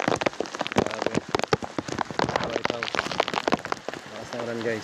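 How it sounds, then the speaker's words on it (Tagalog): Heavy rain pounds a surface in a dense patter of close drops, with a voice speaking briefly underneath. "Lakas ng ulan dito sa Imos."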